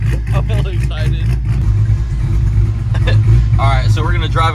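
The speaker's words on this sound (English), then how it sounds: "We're gonna let it warm up a little bit, and then I'm gonna give her some revs," A Dodge Hellcat V8 fitted with a choppy cam idles loudly and steadily, its lumpy low rumble running throughout with some throttle blips, while people talk over it in the foreground.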